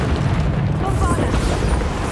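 Bombarda explosion spell from Hogwarts Legacy, a dense, sustained rumbling blast with heavy low-end boom filling the whole moment, loud and continuous, with other game noise layered in.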